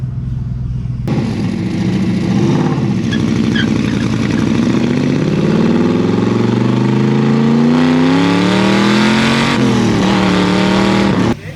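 A Ford XY GT Phase 3 HO engine drones loudly and roughly up close, rising in pitch as it revs and accelerates, with a harsh rattling edge throughout.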